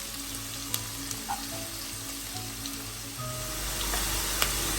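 Sliced onions frying in oil for Kerala-style mutton biriyani, a soft continuous sizzle with a few light clicks and utensil taps, moderately close and fairly quiet, no speech.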